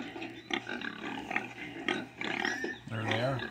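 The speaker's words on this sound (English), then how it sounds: "They oink and snuffle lazily, their tails curled up tight." Pigs grunt and snuffle on a farm in short, uneven bursts, with a few deeper grunts and one louder squealing grunt near the end, close and fairly quiet.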